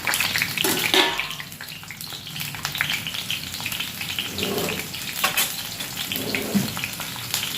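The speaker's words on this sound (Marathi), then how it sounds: "त्याला थोडंसं तेलात फ्राय करून घ्यायचं" Small slit onions fry in oil with a continuous loud sizzle and bubbling, broken by occasional stirring clatters close by, and no voices.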